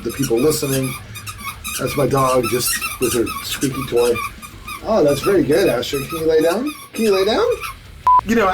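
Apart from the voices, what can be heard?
dog squeaking her squeaky toy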